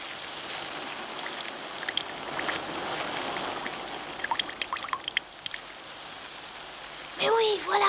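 Steady rain falls outside at night, a dense even hiss with scattered louder drips, and a voice speaks briefly near the end.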